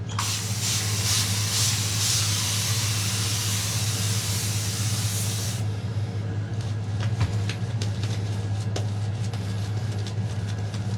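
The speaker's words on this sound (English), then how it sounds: "so let's go for another spray." A loud, continuous aerosol hiss sprays for several seconds, then cuts off, leaving a low hum with scattered clicks and rustles.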